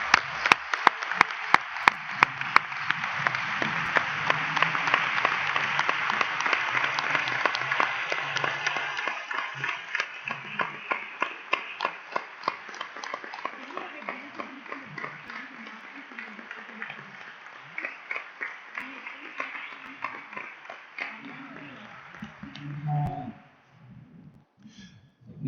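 Audience applause for newly accepted board members at a general assembly in Wroclaw, a long burst of many hands clapping that swells early, then thins and fades out near the end.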